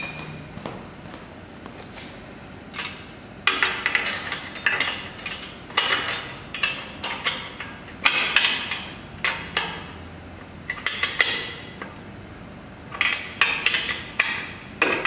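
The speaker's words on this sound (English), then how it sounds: "this is where you need two wrenches to get in here because there's sprockets in the way." Metal wrenches clink and knock on bolts near the sprockets of a Mechanical Transplanter Co. 912 or 948 transplanter, a steady series of sharp close taps and scrapes with a ratcheting rhythm and no voices.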